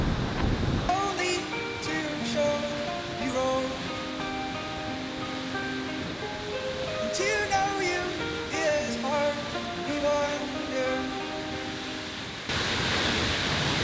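Steady roaring rush of a waterfall heard from behind the falling water in rainy Iceland fills the background, continuous and enveloping, with music playing over it.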